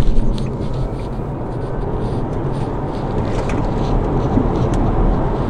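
Steady low road and wind rumble inside an MG4 electric car under hard acceleration, a dense, even roar that swells slightly toward the end, with no talking.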